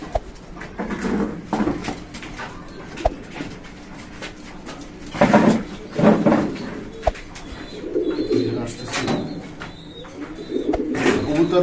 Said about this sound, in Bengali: এই সাইডে নর বা বড় সাইডের কবুতর এই সাইডে রাখি